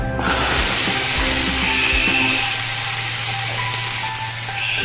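Cut brinjal, potato and taro hitting hot oil with turmeric, a loud, steady sizzle that fills the short stretch alone, with faint clatter in the pan early on.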